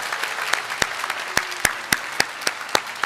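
Church congregation at a Christmas service applauding to bless newly baptized infants and children, a sparse round of clapping with distinct sharp claps standing out over a softer patter, moderately distant in a reverberant hall.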